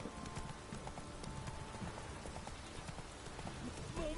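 Roach the horse trots in The Witcher 3, with a steady rhythmic clip-clop of hooves over a faint rainy background. The hooves are moderately close and fairly quiet.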